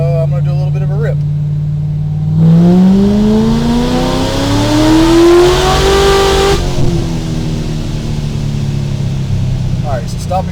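A 700hp supercharged Corvette on a dyno holds a steady idle, then revs hard in a long rising pull that climbs for several seconds before dropping back. The engine is loud and close, with a voice speaking briefly at the start and the end.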